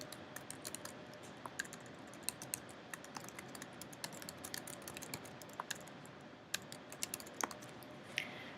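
Someone types on a computer keyboard, producing close, quick key clicks in uneven bursts against a quiet room, with no one speaking.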